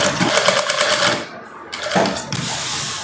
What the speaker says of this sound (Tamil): இப்போ சுற்றி தையல் போட்டுக்கலாம். இந்த லைனிங் மேலே சுற்றி தையல் போட்டுட்டு